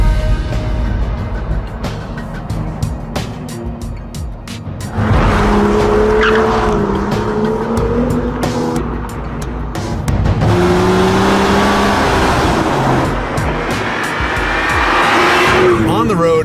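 A BMW M2 F87 drives on a public road, its engine droning steadily and rising in pitch through gears with faint tire noise, close and loud throughout.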